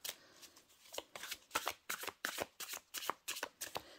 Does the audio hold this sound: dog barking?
no